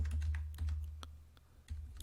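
A quick run of crisp computer keyboard clicks enters an Excel shortcut, Alt then H, A, L, in a brisk rhythm of separate taps, close and clear with no talking.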